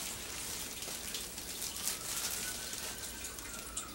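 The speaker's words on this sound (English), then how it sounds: "So you want to squeeze it and get most of the water out of it." Water drips and trickles from wet bedding squeezed by hand over a homemade food-composting worm bin, a soft irregular patter close by with no talk.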